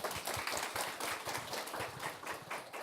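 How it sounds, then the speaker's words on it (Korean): Audience applause at a corporate job talk introducing a research presenter, a brisk burst of many hands clapping at moderate volume, steady for the few seconds. "박수 부탁드립니다."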